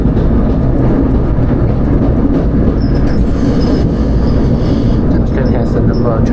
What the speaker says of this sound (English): We're on the high-speed train.